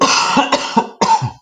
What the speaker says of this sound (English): You don't want to hear me coughing.